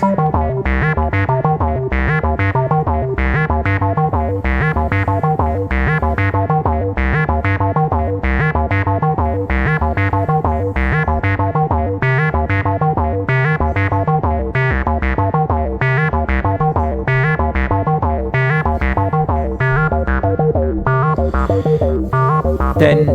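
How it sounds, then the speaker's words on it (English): Generated 8-step acid synth sequence from the Acified plugin, a fully repetitive squelchy, distorted pattern looping steadily and loudly for over twenty seconds with no talk. "If we, for example, generate an 8-step sequence, you can hear the effect"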